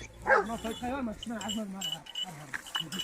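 Dogs barking and yelping in short bursts close by while being provoked to act like fighting in a melon field, mixed with excited human voices talking over them.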